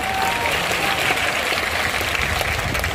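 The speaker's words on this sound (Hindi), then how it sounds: "ताली बजाकर धन्यवाद" An audience at a large outdoor religious gathering in Australia claps together, producing dense, steady applause that fills the whole moment without pause.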